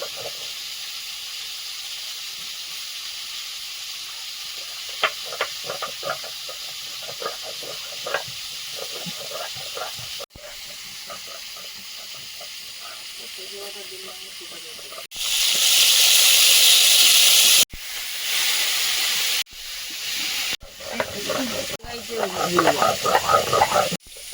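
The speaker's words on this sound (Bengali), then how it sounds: "আদা জিরে শুকনো লঙ্কাটা একদম মিহি করে ভেজে নেব" Ginger, cumin and dry red chili frying in oil for a ridge gourd dish, at first quiet spattering, then loud bursts of hissing sizzle that cut in and out.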